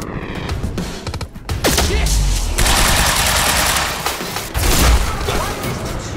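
Gunfire in the video game Quantum Break: dense, loud bursts of automatic fire and booming shots crash continuously over chaotic action sounds, with a voice speaking underneath.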